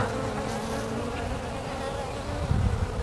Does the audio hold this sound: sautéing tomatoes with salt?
no